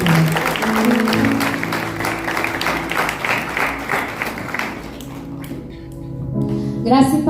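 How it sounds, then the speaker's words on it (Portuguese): A church congregation claps steadily for several seconds during a Christian service, the applause thinning out toward the end as music or voices rise briefly. "E as palmas que louvam o Senhor."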